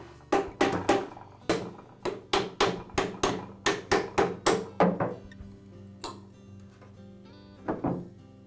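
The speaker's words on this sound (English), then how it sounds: "I'll just tap the connecting rod back onto the bearing with my rubber mallet" Rubber mallet taps seat the connecting rod onto its bearing in a Ridgid air compressor pump, a run of about a dozen dull, evenly spaced knocks followed by a pause and two lighter strikes.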